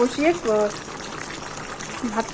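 Rice boiling in a pot on a home stove, a steady bubbling hiss running between brief stretches of someone talking at the start and end.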